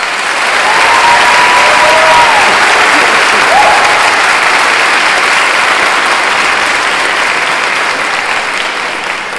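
Sustained applause from a large audience fills a school graduation ceremony, dense and loud for about nine seconds, a steady wash of clapping with no talking over it.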